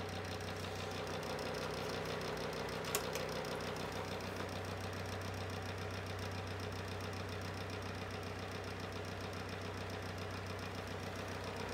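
A Sears 9-inch desk fan runs on high with a steady, even motor hum and rushing air, close and constant throughout, with one faint click early on and no talk.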